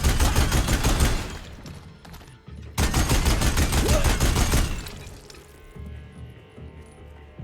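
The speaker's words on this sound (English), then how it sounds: "Now I have a Tommy gun." A Tommy gun in Horizon Zero Dawn Remastered rattles off loud, rapid automatic bursts, first around two seconds, then a longer volley after a short pause, before fading into quieter game ambience.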